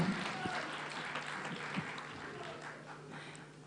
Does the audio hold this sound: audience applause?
yes